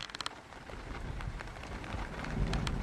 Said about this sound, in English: Look at the rain behind me there.